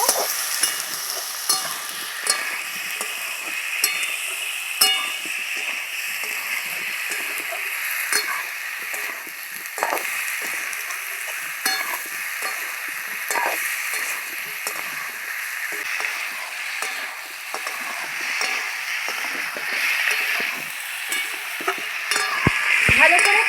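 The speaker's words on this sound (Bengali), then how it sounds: "লবণ হলুদ একটু মিষ্টি ভালো করে কষিয়ে নেব" Pumpkin cubes sizzle in hot oil with salt, turmeric and a little sugar while a spoon stirs and scrapes the pan in irregular strokes, close and continuous.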